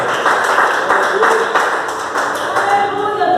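A church congregation claps steadily in a dense, continuous patter of applause, close and loud, with a few brighter taps standing out.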